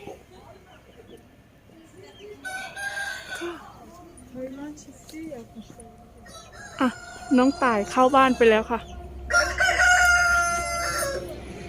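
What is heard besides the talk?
chicken crowing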